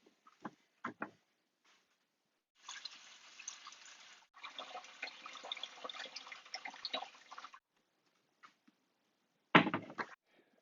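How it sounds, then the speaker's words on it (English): Water pours steadily into a beer fermenter for several seconds, framed by a few short knocks and clunks before and after. "we're going to fill up our fermenter with water"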